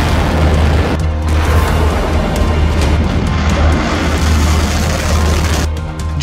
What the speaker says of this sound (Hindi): जब ईरान की ये मिसाइल फायर की जाती है तो तस्वीरें ऐसी होती हैं।